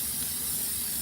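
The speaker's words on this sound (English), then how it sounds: "So this is a non-toxic spray adhesive that we're using." A can of non-toxic spray adhesive gives off a steady, continuous hiss, close and loud, with no talk over it.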